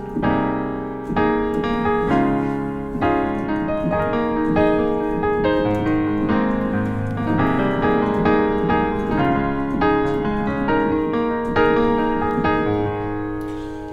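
A solo piano plays the bridge of "Goodness of God", a steady repeating four-chord progression with a flowing melody, full and close, continuing alone without any voices.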